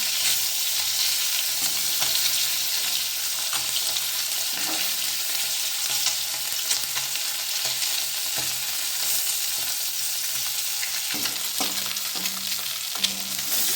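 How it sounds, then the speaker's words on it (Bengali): Egg and cabbage frying in a pan until browned, a steady dense sizzle with occasional scraping stirs and utensil knocks, close and continuous without any talking. "লাল লাল করে ভেজে নিই।"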